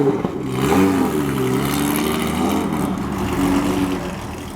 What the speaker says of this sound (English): probably the rowdiest sounding RWB I've ever heard